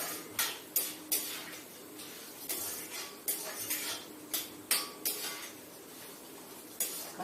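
Peanuts roast in a pan for a tamarind rice mix while being stirred, the spoon knocking and scraping against the metal in repeated irregular clinks over a soft background.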